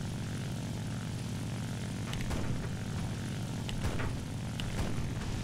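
Steady, loud propeller drone of an overheating IL-2 attack aircraft engine in War Thunder, a continuous roar with a few faint clicks over it and no talk.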